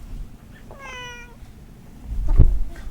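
A cat gives one clear, close meow with a rising-falling pitch, followed by a louder thump or rustle a moment later.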